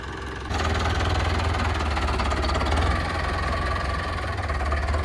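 John Deere and Sonalika tractor engines running, a steady low diesel rumble that kicks in after a brief quiet moment and holds at an even idle, close by with no talk.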